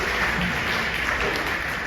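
An audience at an AGM award presentation claps in a dense, continuous wash of applause that fills the whole moment without a break.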